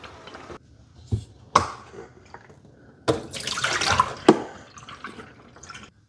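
The dirty water tank of a Roborock Curv 2 Flow robot mop is emptied: irregular splashes and pours of water, with a louder gush near the middle, a few sharp knocks and drips, and no talking.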